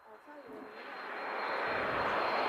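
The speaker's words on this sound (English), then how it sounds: "we got a jet taking off now" Jet aircraft taking off at Gloucestershire Airport, its engine roar building steadily from moderate to loud over a few seconds, heard at a distance outdoors.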